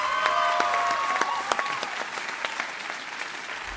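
Audience applauding at a university forum, a steady burst of clapping from a crowd indoors with sharp individual claps standing out, slowly thinning toward the end.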